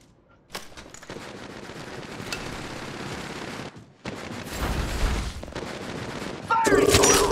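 Automatic gunfire in the video game Apex Legends Mobile, loud sustained bursts of rapid shots with a brief pause partway, ending in a heavier burst, with no speech.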